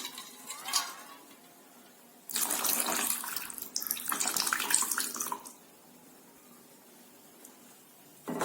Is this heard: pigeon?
no